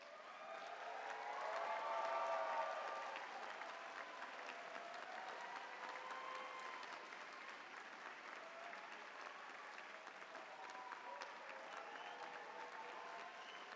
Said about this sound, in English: We are applauding the friends and families in recognition of the love and support they have provided you